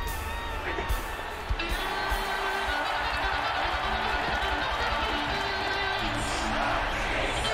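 A game crowd in Psychonauts 2 keeps up a dense, loud wash of cheering and shouting, with a few thumps early on and a player's voice talking over it.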